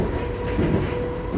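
An old tube-style train runs on the Isle of Wight line from Ryde to Sandown, heard from inside as a steady rumbling roll with faint rhythmic wheel clatter, continuous and moderately loud, with no talk.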